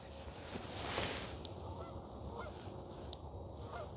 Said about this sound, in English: and let's close out with the geese